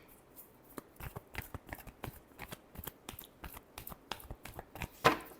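A deck of tarot cards being shuffled by hand, a quick run of crisp riffling slaps and flicks close up, ending in a sharper snap as the deck settles, with no one speaking.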